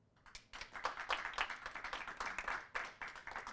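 A small group of people clapping together in a quiet room, a brisk, fairly soft patter of hand claps lasting a few seconds.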